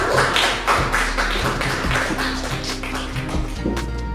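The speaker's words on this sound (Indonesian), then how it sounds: "beri aplaus untuk kelompok satu" A classroom group claps for a group presentation, a dense, continuous patter of many hands that stays loud and even for several seconds, with no speech over it.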